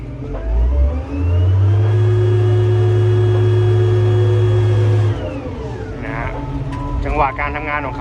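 A TCM 840 wheel loader with an Isuzu diesel engine revs up from idle, holding a loud steady roar for several seconds before dropping back, followed by someone talking close by.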